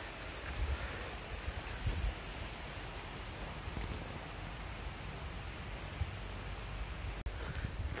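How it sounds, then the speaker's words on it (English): Light rain falls steadily outdoors under trees in Wales, making a soft, even patter with occasional louder drops, faint and continuous throughout. "It's starting to rain a little bit."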